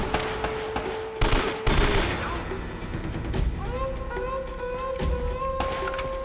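Gunfire in Uncharted: Drake's Fortune Remastered: several sharp rifle shots and rapid bursts crack close, one heavy volley standing out, over a sustained game music tone, with a player speaking at times.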